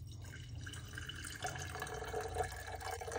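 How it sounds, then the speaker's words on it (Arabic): Boiling water poured from a kettle onto ground saffron over ice cubes in a kitchen gives a quiet, trickling splash that grows slightly fuller partway through, faint and without talk. "هلا بدنا نضيف المي الغليانة على الزعفران فوق قطع الثلج"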